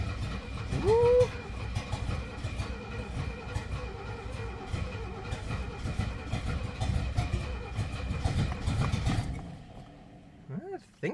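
A 1970 Mercedes-Benz 250 with old fuel and long storage cranks over repeatedly in a steady rhythmic churn for about nine seconds, close and loud, then stops; birds chirp faintly nearby and a brief voice follows.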